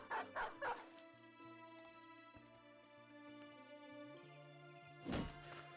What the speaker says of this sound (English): Get another dog in there.